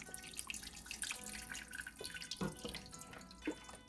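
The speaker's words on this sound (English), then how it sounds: "We're going to let this whey drain out" Whey from homemade cottage cheese curds draining off in a kitchen, a soft, uneven trickle with scattered drips and small splashes, quiet and close, with no voices.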